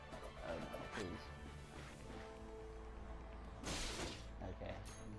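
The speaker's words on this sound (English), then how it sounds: "Smashing this random crap." Crates and objects smashed in the video game Ratchet and Clank, a few loud cracking bursts over steady game ambience, with a big crash near the end.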